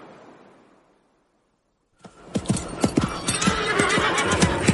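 Horse hooves galloping in a steady rapid clip-clop with a whinny, a radio-drama sound effect that starts abruptly after a brief quiet tail and continues loud and close.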